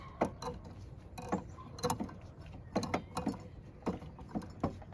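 A wrench works at a seized brake line fitting on a 2001–04 Kia Rio, producing a series of short metallic clicks and ratcheting knocks in uneven bursts, fairly quiet and close, with no speech.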